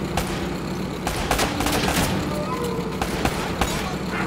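Gunfire crackles through a firefight in Uncharted: Drake's Fortune, several sharp bursts and single shots in quick, irregular succession over a busy, noisy game-action background.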